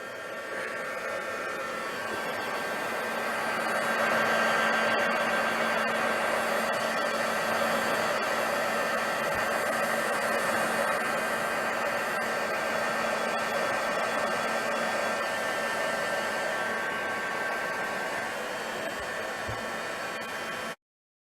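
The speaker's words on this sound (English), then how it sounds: "I'm just going to try and dry this bit off. Now, where's my glue gun? Heat gun." A heat gun blows continuously while drying craft glue on a mixed media bangle, a loud steady whooshing roar with a faint motor whine, running alone for about twenty seconds before cutting off.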